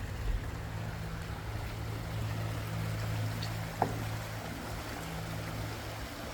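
A fast-flowing river or creek makes a steady, even rush of water throughout, fairly soft and continuous, with one brief knock partway through and no talking.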